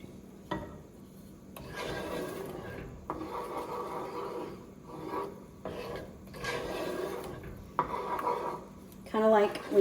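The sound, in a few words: stirring butter and sweetened condensed milk in a pot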